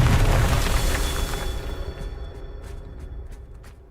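A Confringo spell explodes in Hogwarts Legacy, a loud, deep boom at the start that rumbles and fades away over several seconds.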